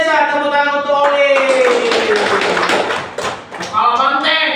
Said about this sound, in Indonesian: Tepuk tangan untuk Oli.